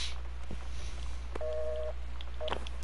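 A telephone is dialed in the video game Gone Home: a short run of clear touch-tone beeps over a steady low hum, with faint clicks between the tones and no talking.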